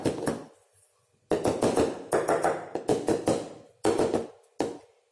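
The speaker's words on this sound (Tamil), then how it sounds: "இப்படி டேபிளில் 2 தட்டு தட்டிக்கோங்க" A cake tin filled with batter for a pressure-cooker cake is tapped against a table, giving a series of sharp, close taps and knocks in irregular bursts with short pauses between them.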